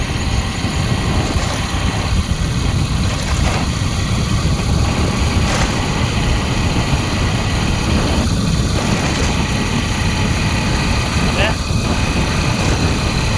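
A motorcycle engine running steadily on a road near a village crossroads, a loud close drone that hums without a break throughout, with a person's voice talking over it at times.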